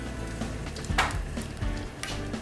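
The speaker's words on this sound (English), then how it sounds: "Come on, we're sauteing in butter, so you're gonna get that great, great flavor." Celery, onions and green apples saute in butter in a pan, giving a quiet, steady sizzle and crackle with a few louder spits and stirring scrapes.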